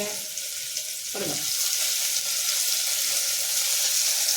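Onions and tomatoes sautéing in a pan for chicken curry, a steady close sizzle with a brief stirring scrape near the start, continuing evenly without speech.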